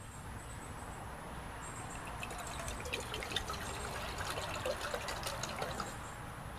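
Water pours steadily into a vessel on a Camp Chef Stryker 100 compact cooking system, a continuous trickling stream with no talk over it.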